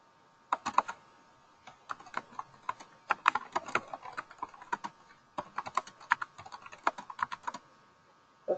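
Steady typing on a computer keyboard during a web software demonstration, with quick clusters of crisp key clicks broken by brief pauses, close and fairly quiet with no one speaking.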